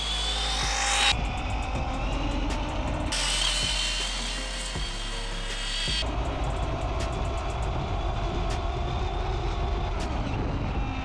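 RC car fitted with 3D printed tires running flat out at around 46 mph, a loud continuous whining, gear-driven motor drone that surges and drops as the throttle changes, with no talking.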